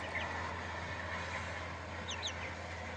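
Faint two-month-old native country chicks peep and cheep softly at a distance over a steady background hiss and low hum.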